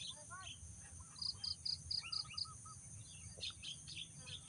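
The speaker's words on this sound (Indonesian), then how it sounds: "Burung jalak guys," Javan myna calling at a fishpond-side hunting spot, a run of short sharp repeated chirps in a quick regular series, then a few more scattered calls, fairly near over a low steady background hum and insect buzz.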